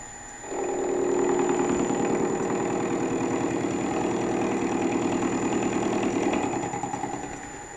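Milling machine taking a light 0.2 mm cut while remachining an INT30 mill adaptor, a steady mechanical drone with a rapid rhythmic chatter that starts after half a second, runs evenly and fades out near the end.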